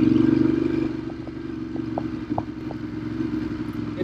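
A Ducati Hypermotard motorcycle engine idles and purrs steadily nearby, a low even throb with faint clattering ticks on top and no other sounds.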